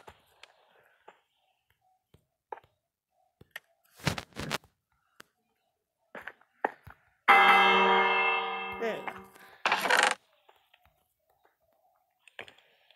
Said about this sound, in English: I'm actually going to place this bell.